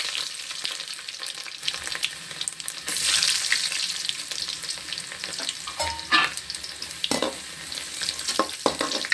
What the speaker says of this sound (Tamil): சீரகம் அது நல்லா பொரியும் போது வெள்ளைப்பூடு வச்சு வச்சுருக்கோம் அதையும் போட்டுக்கணும்